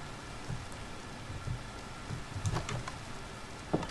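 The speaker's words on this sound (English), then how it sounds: "Get rid of this rain." Steady rain falling in Minecraft, a soft continuous patter with occasional brighter drop ticks, heard alone at low level.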